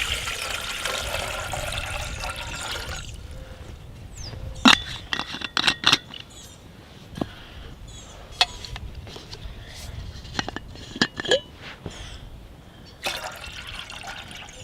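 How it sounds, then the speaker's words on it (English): Water poured into a pot at a spring camp, to be heated for coffee and oatmeal: a brief splashy pour at the start, then scattered clinks, drips and scrapes of cookware, fairly close and quiet. "heat up some water for coffee and oatmeal."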